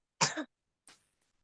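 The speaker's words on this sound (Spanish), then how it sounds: "Igual que yo está con tos." A single short, throaty cough, followed a moment later by a faint breathy exhale; otherwise quiet.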